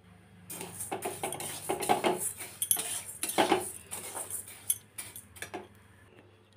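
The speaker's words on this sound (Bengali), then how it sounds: "ডালটা কড়াইতে দিয়ে সবসময় নাড়তে হয়" Mung dal being stirred and roasted in a kadai with a metal spatula, giving repeated scraping clinks and taps against the pan at close range, irregular in rhythm, over a low steady hum.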